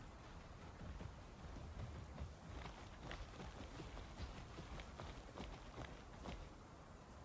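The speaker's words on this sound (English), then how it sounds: "Pretty sure I'm hearing some footsteps." Dinosaur footsteps in the video game Path of Titans, a steady run of soft thuds and crunching steps at moderate distance over a rushing background, with no talk.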